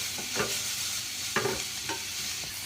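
Chopped green chillies frying in a pan for chicken samosa filling, a steady soft sizzle with a few scraping stirs of the spatula, close and quiet, with no talking.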